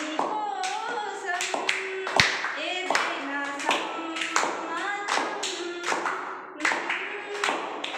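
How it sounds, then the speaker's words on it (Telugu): An audience claps through a housewarming skit, a steady crowd of hand claps with sharp individual slaps standing out up close and a faint voice mixed in. "చప్పట్లు అందరూ స్టార్ట్"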